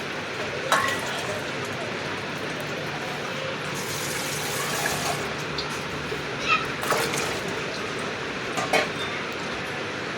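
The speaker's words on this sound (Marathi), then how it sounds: "तर आपण आता तांदूळ टाकून घेऊया भातामध्ये" Washed rice is tipped into heated water in a cooking pot, producing splashing, pouring water with occasional clinks and short rushing bursts over a constant background hiss.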